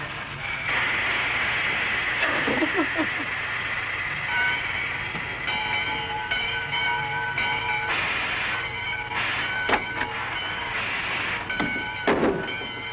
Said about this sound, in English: It's about time for the train to leave.